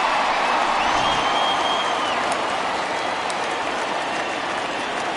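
A stadium crowd in the MLB The Show 20 baseball video game roars in a dense, constant wash of cheering noise. It is loud and unbroken, with a faint whistle-like tone drifting over it.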